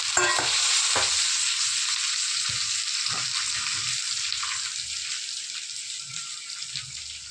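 Steamed kozhukattai dumplings being stir-fried in a pan with a dal and curry leaf tempering, a steady sizzle with scraping stirs, loudest at the start and easing slightly over the seconds.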